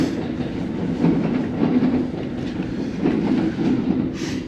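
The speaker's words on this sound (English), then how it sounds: "Because there's another train coming in right over here." A train rolls past on railroad tracks, wheels clacking in a rhythmic rumble close by, steady and fairly loud throughout with a faint squeal near the end; no one speaks.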